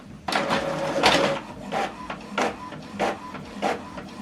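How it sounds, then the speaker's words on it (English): An Epson WF-2910DWF inkjet printer runs a two-sided black document job, with repeated mechanical whirring bursts of print-head and paper-feed motion at a steady rhythm, close and moderately loud with no voices. "Now this document is printing."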